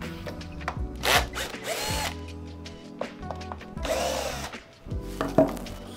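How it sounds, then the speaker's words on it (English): A cordless power drill runs in short whirring bursts with clicks and handling noise between them, backing screws out of the footpad of a Onewheel Pint electric skateboard, close and fairly loud. "I'm gonna be using this power drill set on one"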